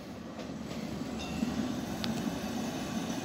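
A train pulling into Chom Thong station rumbles steadily at close range, a dense low roar with faint high squeals and clanks above it.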